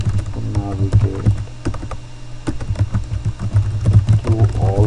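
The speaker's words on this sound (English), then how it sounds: "page up and page down on your keyboard to navigate" Computer keyboard keys clack in irregular bursts of typing, close and clear, while someone talks over them.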